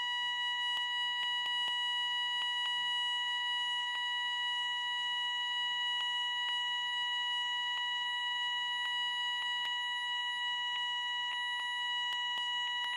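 A smoke alarm beeps continuously indoors, a steady piercing electronic tone that carries on without pause for the whole stretch, loud and alone with no voices over it.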